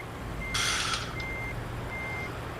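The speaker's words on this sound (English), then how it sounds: "I'm gonna back in there, Kyle" Reversing beeps from a truck pulling a trailer in American Truck Simulator, a few clear repeated high tones at an even pace with a brief hiss of air in between, and no talking.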